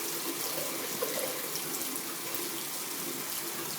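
Water running steadily from a tap into a sink as a child rinses after brushing teeth, continuous faint splashing with no break.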